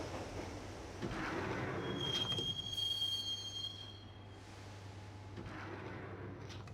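Train ride in the video game Max Payne: a steady low rumble of the rolling carriage with rattling and a thin metallic high whine midway, continuous and moderately loud throughout.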